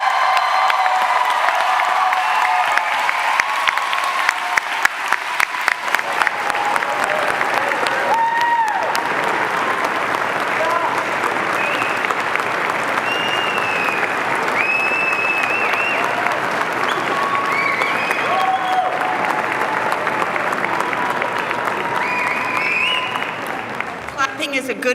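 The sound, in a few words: audience applauding graduating classes at convocation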